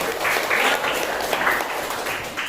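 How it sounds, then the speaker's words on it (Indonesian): Students in a Year 7 classroom guidance lesson applaud a classmate: a short burst of scattered clapping from a small group, uneven and lively, lasting a couple of seconds with no talk over it. "tepuk tangan buat kamu ini"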